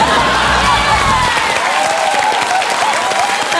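Studio audience applause at a comedy panel show, a dense, loud, steady wash of clapping with some cheering, continuous throughout with no gaps.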